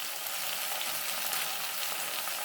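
Brinjal sautés in a pan with a dense, continuous hiss of sizzling oil, steady and close throughout with no talking.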